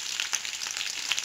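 Dried red chillies hit hot oil with sautéed garlic for onion chutney, producing a dense, steady close-up sizzle throughout the short moment.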